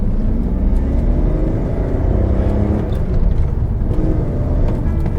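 A classic car, a CSI with an aftermarket exhaust and performance chip, gives a steady, loud engine rumble through the exhaust, a deep continuous drone with no voices over it.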